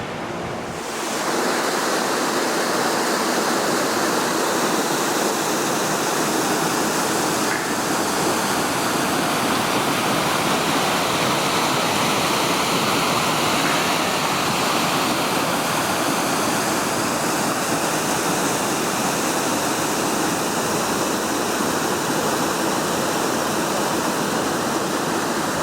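A waterfall beside the Rubicon Trail roars in a steady, dense wash of falling water that fills the whole stretch without pause and stays loud and constant from start to finish.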